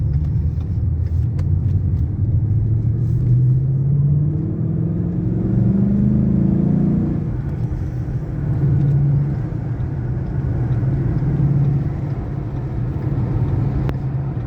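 Ford Mustang driving through the Clyde Tunnel in Glasgow, a steady, loud low engine and road rumble filling the cabin, with a rising then falling swell of revs midway as the car accelerates through the tunnel.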